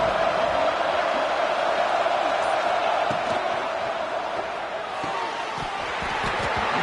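A packed football stadium crowd roars steadily through a big third-down play at an Eagles game, a dense, sustained wall of noise that dips slightly midway and swells again.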